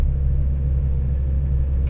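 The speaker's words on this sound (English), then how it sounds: "Here, our plow is actually going down the road today." Low, steady engine rumble from a snow plow truck driving down a residential street during a snow emergency, continuous and fairly close, with no voices.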